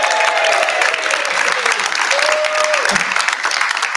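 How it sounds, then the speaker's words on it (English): Live audience at a Pembrokeshire community hustings clapping and cheering, dense loud applause throughout with a few raised voices and whoops on top. "Can I hear from a live audience tonight with a big cheer?"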